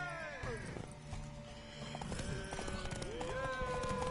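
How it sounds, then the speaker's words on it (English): Horse hooves clop in a steady rhythm amid sounds from the video game The Witcher 3: Wild Hunt, with a whinny and voices talking over the action. "Want that horse, don't ya?"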